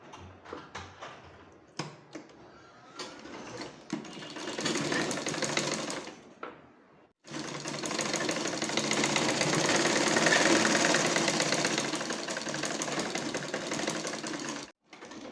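Sewing machine stitching bra parts, joining front pieces to the waistband, in a steady buzzing run that starts in short bursts, then holds long and loud before a brief stop.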